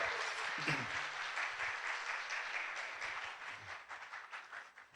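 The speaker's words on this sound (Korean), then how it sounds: "네, 박수 환영합니다." A church evangelism festival audience applauds to welcome a guest from Morocco, with sustained, dense clapping filling the hall that gradually thins and fades toward the end.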